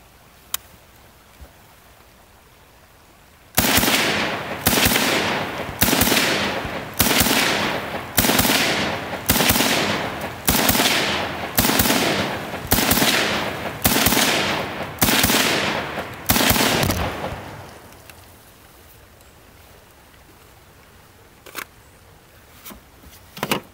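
Rapid shots from a Ruger M-14 rifle chambered in 5.56 NATO, a loud fast string of about a dozen sharp close cracks at an even pace, then a quiet pause with a couple of faint clicks.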